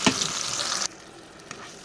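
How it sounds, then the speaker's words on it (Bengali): Ground spice paste hits hot oil in a pan for a vegetarian paneer biryani, setting off a loud burst of frying that drops sharply to a quieter sizzle, with one soft tap later. "মশলাগুলো ভাজা হয়ে গেছে, এবার আমি বাটা মশলাটা দিয়ে দিই।"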